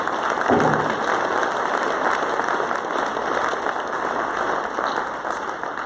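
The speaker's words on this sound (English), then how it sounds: "A round of applause." Steady applause from a convention audience at an opening ceremony, filling the room evenly for several seconds at moderate loudness with no voices over it.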